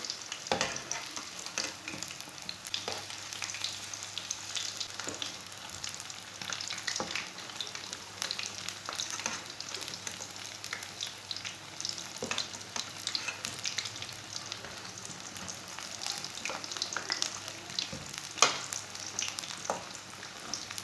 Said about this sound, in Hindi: ऐसे इसे उल्टाते हुए फ्राई कर लेना।